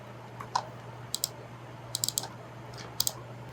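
Sharp plastic clicks of keys pressed on a computer keyboard, arriving as a few scattered single taps and quick pairs, close and crisp over a steady low electrical hum.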